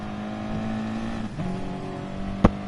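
Race cars in a sim racing video game, an Audi and a Ferrari among them, with steady engine drone whose pitch climbs and shifts as they run down the main straight, ending in a short sharp click.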